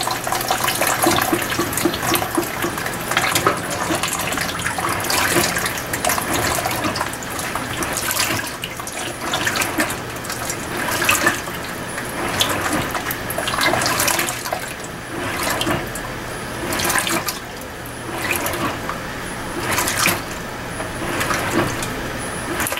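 An Electrolux Direct Drive Premium 16 kg washing machine drains water during a delicate cycle, a steady rushing, gurgling flow with repeated surges, fairly loud and close with no talking.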